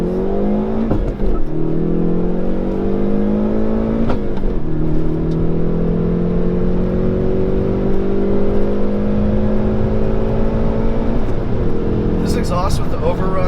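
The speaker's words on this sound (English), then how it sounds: "Exhaust with the overrun is outstanding. I mean, those pops out back sound awesome." The 275 hp 2019 Hyundai Veloster N in N mode roars loud and steady from inside the cabin, its engine note rising through several sweeping revs, with crackling exhaust pops near the end.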